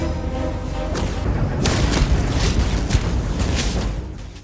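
Heavy, booming weapon fire from a character in Starfield Shattered Space, several loud blasts in quick succession with rumbling low-end echoes.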